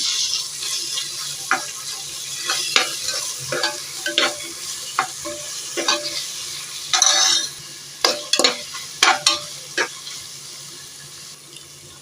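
Crushed garlic sizzling in a pan for prawn biryani, with intermittent stirring and scraping clatters and a brief splash of water; no voices.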